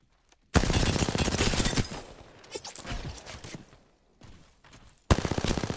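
CAR SMG hipfire in Apex Legends, loud rapid automatic bursts firing in a close, dense rattle, pausing briefly before another sustained burst at the end.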